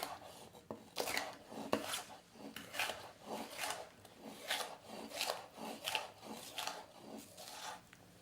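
A knife cutting through a bell pepper from the inside on a board, giving repeated crisp slicing strokes in a steady rhythm, close and clear with no talk.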